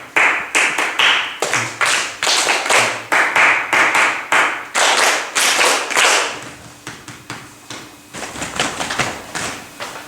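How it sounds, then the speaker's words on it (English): A choir rehearsal group claps rhythmic patterns back in unison, sharp clustered hand claps in short phrases that repeat and gradually grow softer, with brief pauses between groups. "So, just the echo clapping"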